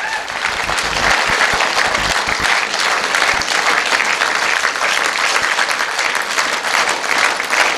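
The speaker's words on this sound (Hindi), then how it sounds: "एक और जबरदस्त तालियां हमारे गोपाल सर के लिए" A crowd at a motivational business event claps enthusiastically for a speaker being honored, a dense, loud, continuous wave of applause with a few sharp individual claps early on.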